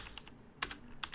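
Computer keyboard keys are tapped a few times, with sharp, close clicks spaced irregularly in a short quiet burst.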